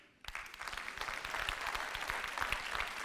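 Audience at a comedy show bursts into dense, sustained applause that starts abruptly and holds steady throughout, loud and close with a few scattered cheers mixed into the clapping.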